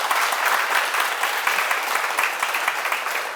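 Audience at a Korean Sunday lecture hall claps in celebration, a steady, dense wash of many hands filling the room at close range, sustained evenly throughout with no voices breaking through.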